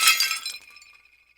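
A Corelle plate breaks into shards: a sharp crash with a scatter of bright tinkling fragments in the first half second, fading into a thin ringing tail, close and without talk.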